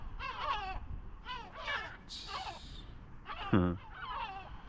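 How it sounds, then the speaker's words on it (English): Several gulls cry and squawk overhead in overlapping bursts, loud and close, with a sharper call standing out near the end. "these seagulls are really annoying though"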